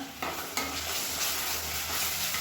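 Onions with ginger garlic paste sizzle steadily in a pan for channa kurma, with a constant frying hiss and a few scraping stirs near the start.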